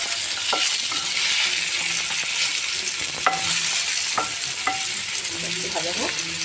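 Pointed gourd (potol) pieces coated in salt and turmeric fry in hot oil with a steady, dense sizzle, while occasional sharp clinks from a spatula stirring the pan break through. No one speaks.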